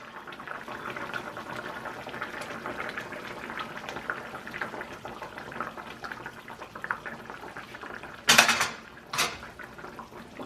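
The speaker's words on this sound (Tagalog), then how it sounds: "Pakuluin ulit para maluto ang harina." A flour-and-water thickener simmers in a pan of Jollibee-style burger steak gravy, a soft steady bubbling with light clinks of a utensil against the pan near the end.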